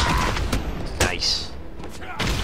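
Short, dull thuds of melee blows in Batman: Arkham Asylum land in quick succession, close and punchy, amid busy fight noise with a voice talking over them.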